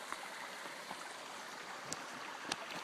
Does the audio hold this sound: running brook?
yes